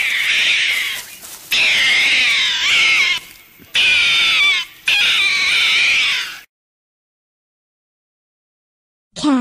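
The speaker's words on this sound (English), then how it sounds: "cat." A domestic cat meows in several drawn-out, wavering calls, loud and close, followed by silence.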